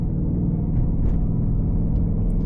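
A Ford Mustang Dark Horse with a six-speed manual, switched into sport mode, gives a deep, loud, steady engine rumble from inside the cabin.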